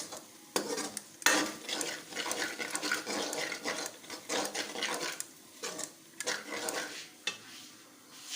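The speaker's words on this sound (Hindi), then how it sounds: "और उसके बाद जो है हम गोश्त इसमें डाल देंगे" Washed meat going into a pot over low heat and being stirred, with scraping spoon-on-metal clatter and sizzling frying, close and continuous with brief pauses.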